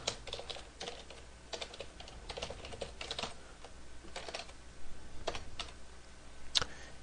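Fingers type on a computer keyboard in quick, uneven bursts of close, crisp key clicks, with short pauses between words and a sharper tap near the end.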